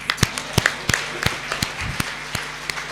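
Audience applause for a comedy poet at a stage event comes as a thin, scattered patter of individual claps, close and fairly loud, over a faint murmur.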